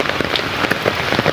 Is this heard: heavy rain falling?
yes